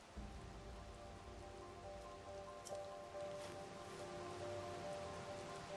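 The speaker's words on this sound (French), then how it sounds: "Voyez, il pleut encore." Steady, soft rain patters in the video game Zelda: Tears of the Kingdom over a faint low hum, with a light ringing tone running throughout. It is quiet and even, with no voices.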